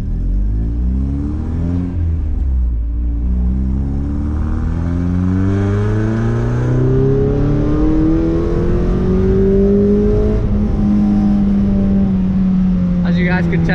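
Modified Mazda MX5 engine accelerating on the road, its loud rising drone climbing steadily in pitch over several seconds, heard from inside the car with a voice talking over it.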